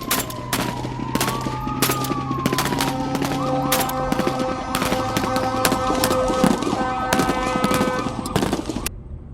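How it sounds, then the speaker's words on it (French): Gunshots and screams as a sound effect. Rapid bursts of gunfire crack repeatedly throughout, mixed with sustained wailing tones that rise and fall. The mix is loud and busy, with no talking. "j'entends des coups de feu et des cris dans tous les sens"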